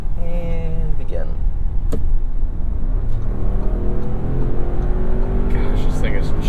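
A 2023 Bentley Bentayga V-8 in sport mode pulls hard under acceleration, a loud, steady engine roar with rising tones filling the cabin while people talk over it.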